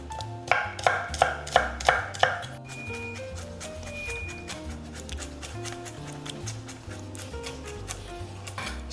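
A knife chops onion coarsely on a board for pork sisig, starting with a run of firm, evenly spaced thuds, then settling into lighter, quicker tapping cuts, close and clear.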